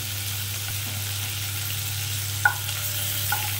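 Four chicken pieces fry in a pan, a steady close sizzle under a low hum, with a couple of sharp clinks from stirring.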